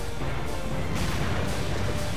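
Cannons firing in the shooter game Serious Sam 2, a loud unbroken barrage of heavy booms with regular pulses about every half second, close and dense, with no talking.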